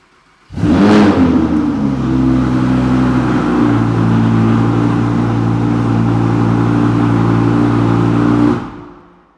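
An Audi R8 V10 Plus fires up with a loud bark, then its exhaust roars close and steady as it is held at high revs for several seconds before cutting off.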